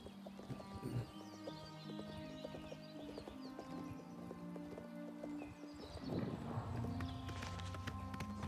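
Horses in a stable in the video game Oblivion: hooves clip-clop steadily nearby with an occasional whinny, over layered background game ambience.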